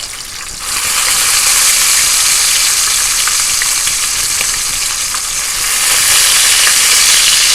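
Bacon fries loudly in a pan, a dense, steady crackling sizzle that swells after a brief quieter start and runs on without pause, close up with no speech.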